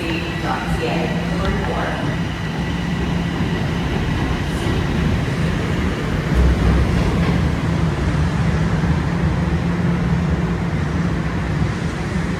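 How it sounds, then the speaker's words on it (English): Toronto TTC southbound subway train sitting at the platform, a loud steady rumble of motors and ventilation with faint clanks, heard close inside the station. "this southbound train is just laying over here"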